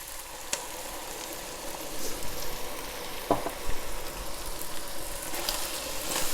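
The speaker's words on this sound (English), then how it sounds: "now we're just going to deglaze the pan with a little bit of our red wine" Red wine hits a hot skillet of browned meat for a bolognese, a steady close sizzle with crackles and a few clinks and scrapes, swelling a little partway through.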